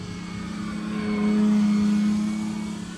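A large E-flite Carbon Z Cub SS radio-controlled float plane flies overhead, its electric motor a steady mid-pitched drone that swells louder as it passes, then fades slightly; no voices.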